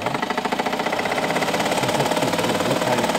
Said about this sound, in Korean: 1960년대 초반에 제조된 걸로 보이는 드레스 미싱